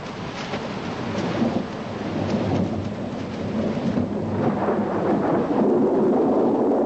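Heavy rain pours in a thunderstorm, a dense, steady roar with deep rolling rumbles of thunder swelling underneath, loud and continuous throughout.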